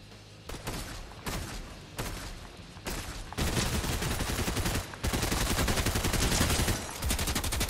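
Rapid, loud automatic gunfire from a Fortnite Battle Royale match, starting with scattered bursts and then turning into a sustained, dense stream of shots in the second half, with no talk.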